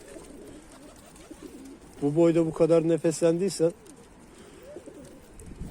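Tumbler pigeons coo in a short run of close, loud, repeated calls lasting under two seconds, with a person speaking briefly over the birds and faint background noise around them.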